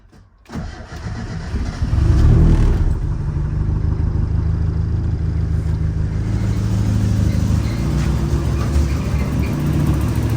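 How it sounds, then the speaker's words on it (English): A Mazda Miata engine fitted with a 3-inch V-band downpipe exhaust starts up with a quick rise, then settles into a steady, fairly quiet low idle rumble that runs evenly throughout. "let's see what it sounds like with the 3-inch exhaust"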